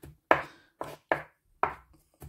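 Fresh coriander leaves being chopped with a knife on a board, five sharp, close, irregularly spaced thuds with short decays and no talk.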